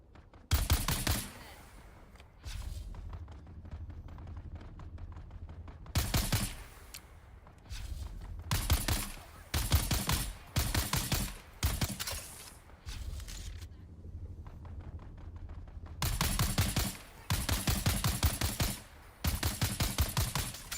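Short bursts of gunfire in the video game Dune: Awakening, repeated volleys separated by quieter gaps, with a person talking between shots.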